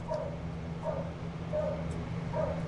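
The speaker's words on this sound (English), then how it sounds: "There's so many dogs in our street," Several dogs bark in the street outside, four evenly spaced yips and barks sounding from some distance over a steady low background hum.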